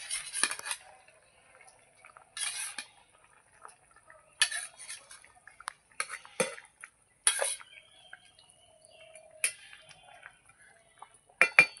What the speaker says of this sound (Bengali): ঢাকনাটা তুলে নেব। ঝোল ফুটে গেছে, মাছ দিয়ে দেবো।